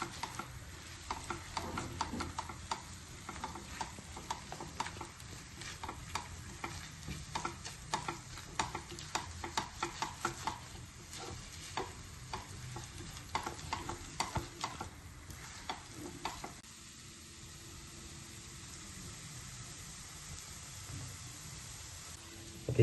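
Egg bhurji is mixed in a pan with quick, rhythmic scraping strokes over a soft sizzle for most of the time, then the stirring stops and only a quieter, steady frying hiss remains.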